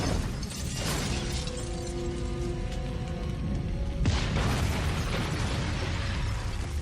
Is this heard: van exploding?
yes